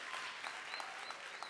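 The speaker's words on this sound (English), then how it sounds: "I think you should give everybody a round of applause" An audience at a conference claps in a soft, diffuse wash, with a few sharper individual claps standing out, faint and distant throughout.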